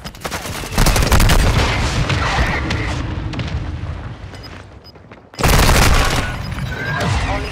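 An artillery fire mission strike hammers the area in Call of Duty: Modern Warfare II, with dense rolling explosions and booms, a brief near-silent gap, then a second loud barrage of blasts.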